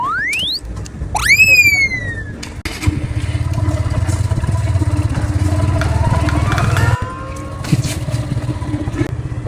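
A loud motorcycle close by catches and settles into a steady, throbbing engine rumble that runs on, after a few high whistling chirps at the start.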